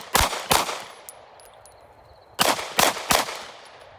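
A Glock 45 pistol fires at the range, with two loud, sharp shots, a short pause, then three more in quick succession, each followed by a brief ringing decay.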